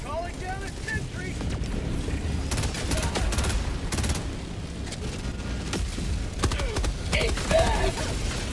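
Rapid automatic gunfire from a deployed sentry turret in a co-op shooter game, dense bursts over a busy battle mix with explosions and mechanical clatter, loud and continuous with brief spikes.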